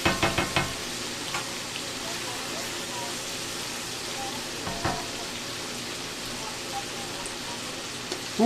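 Fennel Italian sausage stir-fry frying in a pan, giving a steady close sizzle throughout with a few louder crackles and spatters, and stirring clatter near the start.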